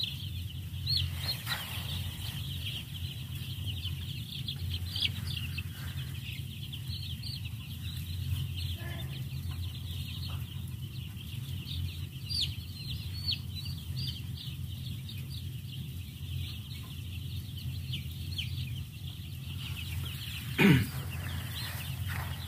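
Broiler chickens in a closed-house coop cluck softly and continuously over a steady low hum, with one brief, louder squawk near the end.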